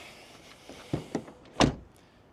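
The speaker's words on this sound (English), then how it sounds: "When you press here, you close it, and door closing sound." A Ford Kuga door is shut and the car is locked by keyless entry: a few soft mechanical clicks, then a solid, close thunk of the door closing, with quiet background and no speech.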